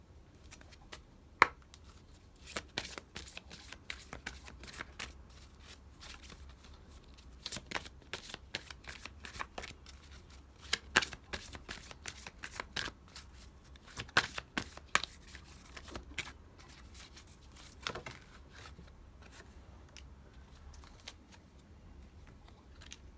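Angel guidance or tarot cards shuffled by hand, a long run of quiet, crisp riffling and flicking bursts at irregular intervals, close and soft, with no talk.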